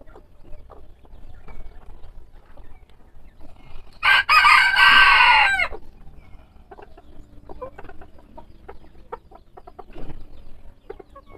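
Backyard fancy chickens cluck softly and intermittently while a rooster crows once loudly and nearby for about two seconds, the clucking continuing afterward.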